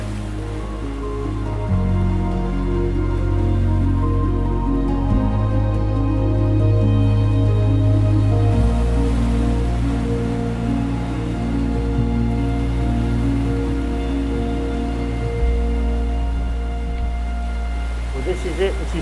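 Heavy storm rain falls steadily around a sheltered spot under a bridge on a February night outdoors, making a continuous, even wash of patter with a low droning undertone throughout.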